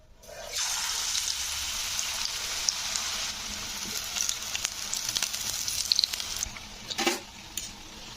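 Helencha leaf fritters (bora) in gram-flour batter frying in hot oil: a loud, continuous close-up sizzle that starts abruptly and holds steady, with faint clinks and stirring bumps over it and no talk.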